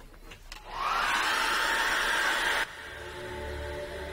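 A hair dryer switches on with a rising whoosh and blows a steady loud hiss over thick acrylic paint on canvas, then cuts off abruptly, leaving a quieter hum.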